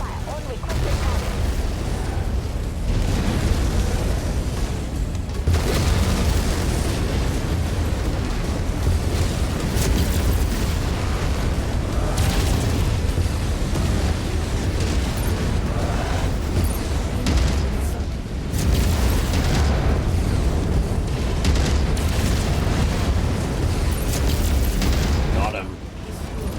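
A coordinated barrage tears through MechWarrior 5, with weapon fire and repeated heavy explosions booming almost without pause, a few brief lulls between rolling blasts, while radio-style voices talk over the fighting.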